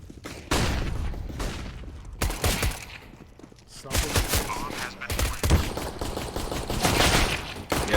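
Rapid bursts of gunfire from a Counter-Strike match ring out through most of the span, with sharp volleys and booming shots and some speech faintly underneath.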